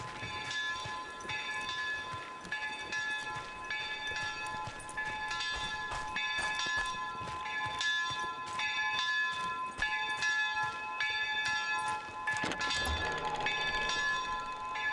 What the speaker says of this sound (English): who's ringing that bell?